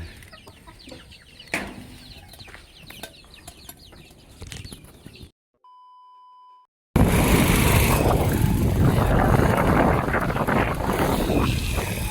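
Chickens from a growing backyard flock at a home cluck in scattered bursts with some wing flapping, fairly close; after a brief gap a loud, steady rumbling noise takes over.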